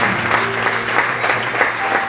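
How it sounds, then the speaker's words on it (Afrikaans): A church congregation applauds during a sermon, a steady dense wash of many hands clapping close by, even and sustained throughout with no speech over it. "Klap hande vir Jesus."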